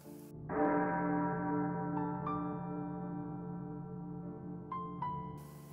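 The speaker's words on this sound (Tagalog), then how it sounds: "Una muna ang malaking kampana," Church bells tolling: a large bell rings first with a long, resonant hum, then a smaller bell strikes twice, then twice again, clear and alone over the lingering drone.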